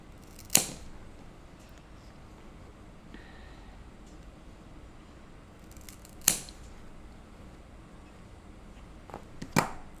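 Scissors cutting a plant stem into little slices: three sharp, close snips spaced several seconds apart, each a crisp metallic click against a quiet room background.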